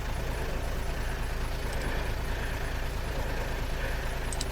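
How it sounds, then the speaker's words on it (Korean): Constant engine drone like a truck or bus idling, a steady low rumble with a faint high whine, continuous and moderately loud with no speech. "계속 귓가에 맴도는 엔진 소리가 시끄러워 평소보다 머리가 멍해진다."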